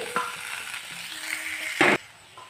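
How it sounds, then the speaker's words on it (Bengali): Potatoes fry in a pan after paneer, a steady sizzle with a few stir scrapes and one loud clatter near the end, close and alone with no talk. "আলুগুলো আমি ভেজে নেব"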